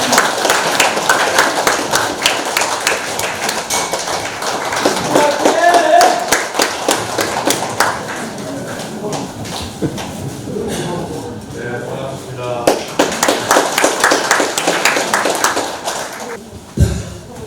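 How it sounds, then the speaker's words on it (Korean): Audience at an anniversary ceremony claps steadily in a dense, loud run of hand claps to welcome the Hamyang county governor, with a brief lull midway before clapping swells again. "여러분 뜨거운 박수로 환영해 주시기 바랍니다."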